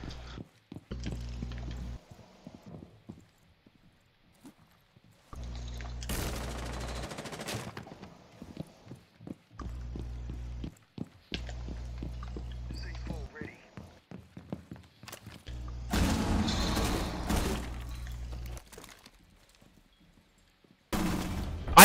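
Gunfire in a video game shooter comes in sporadic bursts, a few long rattling strings and short shots, separated by quieter stretches of movement. Players talk throughout.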